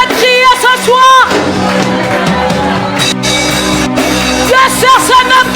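Church congregation shouting and crying out together during an intercessory prayer service, a loud, dense wall of overlapping voices with whoops and yells that swells and surges throughout, briefly dipping around the middle before rising again.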